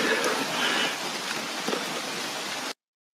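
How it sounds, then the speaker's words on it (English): Rain falls in a steady, dense hiss for under three seconds, with soft patters on a surface, before the sound cuts off abruptly. "So it's raining, right?"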